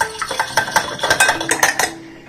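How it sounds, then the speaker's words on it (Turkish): Two eggs beaten in a bowl with a whisk, giving a quick run of rhythmic clinks and scrapes against the bowl, close up, with no voices. "Şimdi bunu bir çırpıcı yardımıyla biraz şöyle çırpıyorum."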